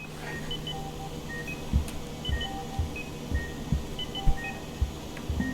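Inside the video game Apeirophobia, an alarm of short, high electronic beeps sounds in scattered, repeating patterns. Dull low thuds pulse at irregular intervals underneath, over a steady background hum.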